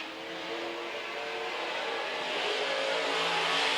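Midwest Modified race cars roar past on a dirt track during a heat race late in the going, a steady, loud, swelling engine drone that builds as the pack goes by.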